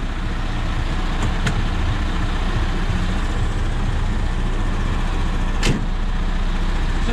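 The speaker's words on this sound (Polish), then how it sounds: "ja ci go zostawię na wolnym obrotach" A truck engine left idling rumbles steadily up close, a loud continuous low drone with a couple of sharp knocks or clunks breaking through.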